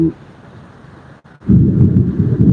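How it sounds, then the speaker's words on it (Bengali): Heavy rain falls steadily during a thunderstorm in Dhaka, with a deep thunder rumble rolling beneath it. A brief lull gives way to a louder, fuller downpour that stays close and continuous. "বৃষ্টি পড়তেছে প্রচন্ড"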